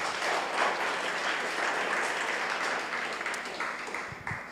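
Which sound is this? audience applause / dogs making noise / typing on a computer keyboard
audience applause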